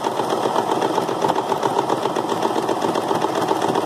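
A home sewing machine stitches a straight square seam, its needle running in a fast, even mechanical whir that stays close and steady throughout with no pauses.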